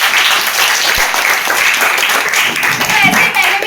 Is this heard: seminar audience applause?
yes